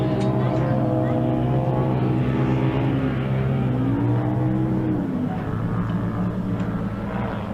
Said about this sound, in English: We'll round out the field of 9 cars as they make their way through the field.